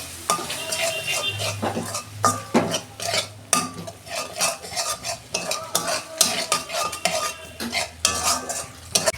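Sour yogurt stirred into spiced masala in a pan for a pointed gourd curry, with repeated scraping and clinking of a spoon against the pan over a low sizzle, steady and close, with no voices.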